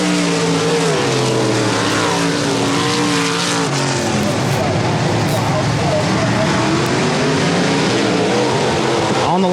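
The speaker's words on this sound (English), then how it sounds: "Euro 4 modified main event is underway, and KP Kyle plays on." Modified race cars roar around Sabine Motor Speedway, engines rising and falling as they pass, with some tire noise. The pack is loud and continuous under a public-address announcer.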